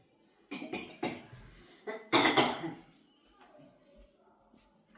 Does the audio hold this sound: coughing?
yes